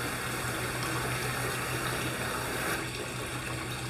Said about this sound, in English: This will fill the pond level, the level of the pond water back up.